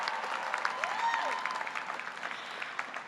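Crowd applause at a university commencement ceremony, steady dense clapping fading slightly toward the end, with a brief tonal sweep and faint voices mixed in.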